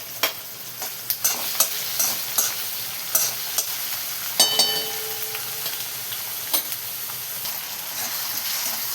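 Garlic, onion and tomato frying in a pan, a bright continuous sizzle broken by repeated sharp clinks and scrapes of a spatula stirring, close up and with no talking.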